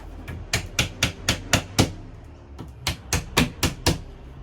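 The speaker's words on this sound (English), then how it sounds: "Now, like I said, I'm hammering these in." A hammer drives pieces into a furniture unit being assembled for an art room, landing about a dozen sharp, loud strikes in two quick bursts with a brief pause between them.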